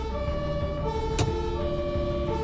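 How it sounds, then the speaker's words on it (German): An ambulance siren wails steadily from a vehicle driving on emergency call with blue lights, loud and close over road and engine noise, with one brief sharp click midway. "fährt mit Sirene und Blaulicht"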